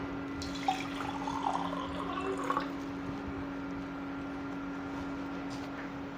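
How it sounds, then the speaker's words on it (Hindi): Water pours into a glass holding salt, a close splashing trickle in the first few seconds over a steady electrical hum, then fading to quiet room tone. "जैसे आपके पास ये नमक है बेटा, ठीक है, गिलास के अंदर, और इसके अंदर मैं पानी डालता हूँ।"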